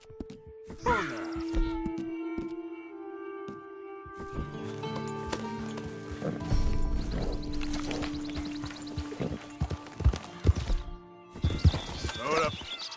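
Horse hooves clop and gallop in Red Dead Redemption 2, rhythmic thuds mixed with in-game music, a neigh and other game sounds, fairly close and moderately loud throughout.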